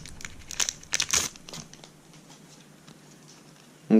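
Foil of a Pokémon Sun & Moon Forbidden Light booster pack crinkles and tears in a burst of close, bright crackling, then fades into faint rustling before a brief low thump.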